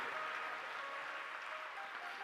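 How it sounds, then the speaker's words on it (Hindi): Applause from an audience at a Hindu religious discourse on Shivratri, a steady, dense wash of clapping that holds at an even level throughout, with no voices heard over it. "तालियां कुछ ज्यादा बजा दी हैं"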